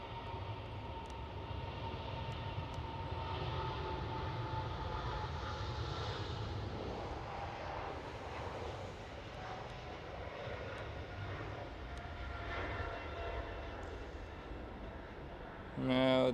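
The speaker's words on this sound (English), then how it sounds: "starting the takeoff roll. It sounds like a bigger one." A Boeing 777 begins its takeoff roll at Schiphol Amsterdam, a steady distant jet roar with a rumbling low end sustained throughout, with someone talking over it and a sharp louder burst at the very end.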